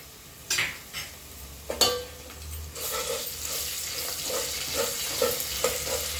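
Onions and ginger paste frying in a pan for chicken pulao, a couple of loud clanks and scrapes early, then a steady close sizzle with small stirring knocks, no talking.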